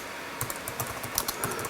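Quick, light clatter of keys on a computer keyboard, a short burst of about a dozen soft taps in an irregular rhythm, close and fairly quiet against a faint room hum.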